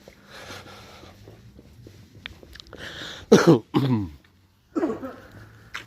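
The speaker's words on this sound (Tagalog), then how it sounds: "Halos inuubo na kami sa lamig." Several harsh coughs from the cold burst out close by in quick succession outdoors at a European market, separated by short pauses, following quieter murmuring and rustling.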